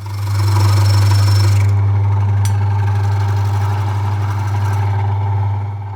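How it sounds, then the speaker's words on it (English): Machine drilling tone holes into a wooden flute body in a workshop: a loud, steady motor drone runs throughout, with a dense grinding hiss above it that thins out toward the end. "you're in the right position for the next hole for the drilling"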